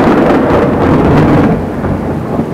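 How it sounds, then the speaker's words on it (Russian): Thunder rumbles through a storm with rain falling, a loud, deep, rolling boom that swells and fades close by, with a steady hiss of rain beneath and no speech. "Испугался немножечко грома и сбился."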